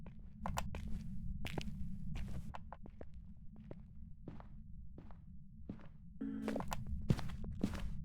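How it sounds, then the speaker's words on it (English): Ghost footsteps during a hunt in the horror game Phasmophobia, a series of soft, irregular thuds spread across the clip over a steady low hum, with a brief crackle near the end. "I can hear those footsteps already."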